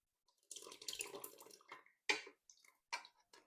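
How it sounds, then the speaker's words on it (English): Buttermilk poured into banana cake batter in short liquid bursts and splashes, close and moderately loud, with brief pauses between pours and quiet gaps around them. "the buttermilk, I'm going to pour half."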